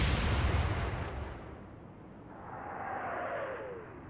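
A warship's main gun fires in the naval game Atlantic Fleet, a deep, rumbling boom that fades over a few seconds, with a faint whistling shell sound rising later as the roar swells again.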